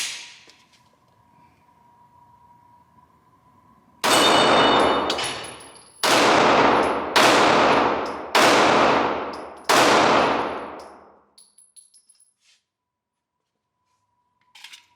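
Five sharp, loud FN 509 9mm pistol shots ring out one after another at roughly one-second intervals, each with a short decaying ring, alone with no talk.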